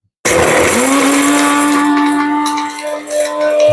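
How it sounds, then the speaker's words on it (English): An electric spice grinder whirs loudly, grinding whole spices for garam masala: it starts abruptly, settles into a steady high motor whine with rattling seeds, then wavers briefly near the end; close and alone. "I'm going to put it into the bowl of the grinder. And we're going to give it a shot. It's noisy."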